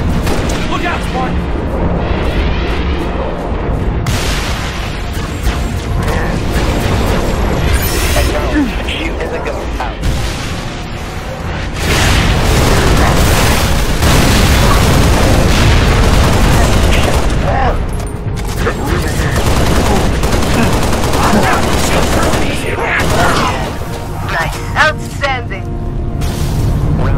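Dense gunfire and heavy explosions from the Halo Reach mission Winter Contingency, loud and sustained with bursts and booms throughout, with radio-style voices talking over the battle.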